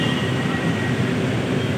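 An LRT light-rail train at Blumentritt Station in Manila, heard as a steady, loud rumble and hiss of the train running close by, with a faint high whine and no talk.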